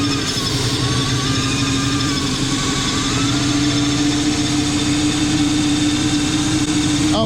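A car engine idles high, around 2,000 rpm, with an abnormal noise, a steady, close mechanical hum and drone carrying a constant whine throughout.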